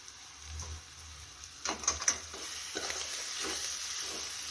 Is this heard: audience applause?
no